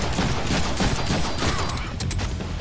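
Sustained gunfire from the Deadpool video game, a continuous rattling volley of shots with a few sharper cracks toward the end, loud and busy with no clear speech.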